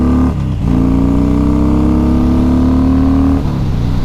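Loud, steady engine drone of a Harley-Davidson Dyna ridden through corners, holding a sustained pitch with brief dips as the throttle eases off.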